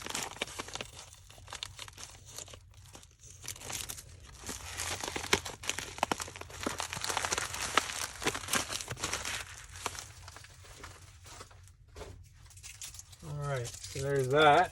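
Paper and packing material crinkle and rustle as a sold item is pushed into an envelope, close and intermittent, with a voice talking through much of it and a final burst of crumpling at the end.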